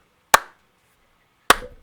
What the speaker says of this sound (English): Slow clap, okay?